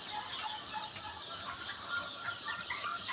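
A brooding hen used to hatch chicks clucks amid a dense, continuous chatter of bird sounds, fairly faint and steady with no speech.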